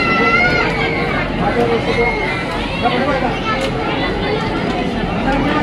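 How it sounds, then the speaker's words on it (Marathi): Dense babble of a big devotee crowd packed inside the Tuljabhavani temple, continuous overlapping voices and shuffling close around, loud and unbroken throughout. "भरपूर गर्दी आहे."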